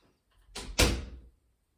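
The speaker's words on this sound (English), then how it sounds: "Yes, close the door." A door is shut nearby in a quiet indoor room: a soft scrape of movement, then one firm close with a short thud that fades within half a second.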